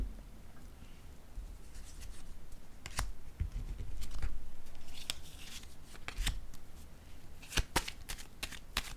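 Tarot cards being shuffled and cut for a reading, a steady papery riffling with sharper flicks and slaps near the end, close and moderately loud, with no talking.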